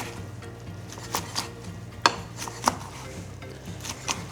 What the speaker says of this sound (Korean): 먹기 좋은 크기로 썰어주세요.